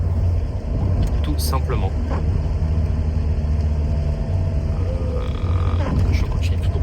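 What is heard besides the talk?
Renault Clio 2 car engine while driving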